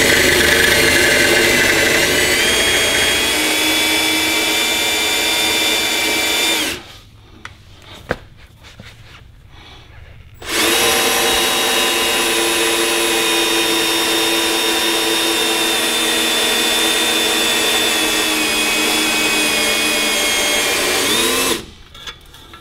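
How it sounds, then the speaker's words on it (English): A power drill whines loudly and continuously for several seconds while drilling out a rivet head on a Datsun 280ZX, pauses, then starts again and runs long, with no talking. "Just drill it out till the head comes off."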